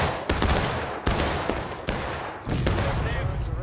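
Repeated loud cannon and musket volleys in a video game, bursts and booming shots in irregular succession like a ragged volley, with distant shouting voices between.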